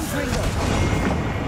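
The Confringo spell from the Hogwarts Legacy video game fires off in a dense, continuous run of loud booming blasts that rumble through the whole moment, with a voice talking over them.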